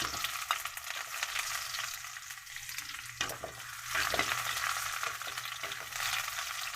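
Garlic and onion fry in a pan for ginataang sitaw with dried fish, a continuous close sizzle broken by stirring scrapes and a few louder bursts.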